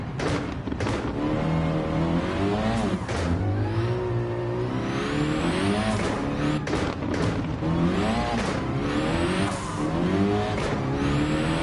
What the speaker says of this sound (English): Got the high RPM turbo on, meaning we can rev this thing out